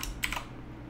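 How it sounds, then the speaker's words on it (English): A short burst of typing on a computer keyboard while a MAC address is entered for a PS Vita controller setup, several quick keystrokes close by over a quiet background hum. "So let's type in the MAC address here."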